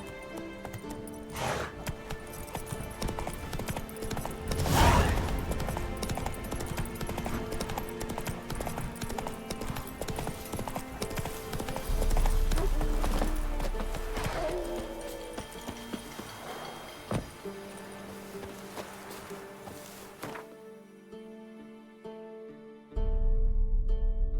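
Horse hooves clip-clop at a gallop in The Witcher 3, a continuous rapid rhythmic pounding with game music and ambient sounds underneath, ending abruptly near the close.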